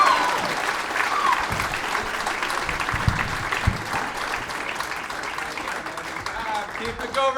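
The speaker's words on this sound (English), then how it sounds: "keep that round of applause going for your next comedian" A comedy club audience in Tacoma gives a steady, full round of applause that runs unbroken for several seconds, dense and fairly loud, while a voice speaks over the clapping.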